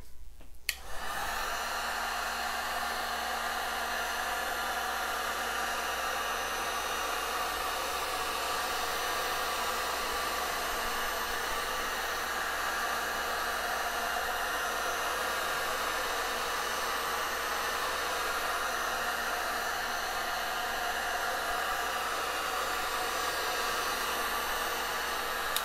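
A heat gun blows hot air over a resin topcoat on acrylic pour art, a steady loud rushing hiss that starts abruptly after a moment of quiet and runs on evenly with no voices.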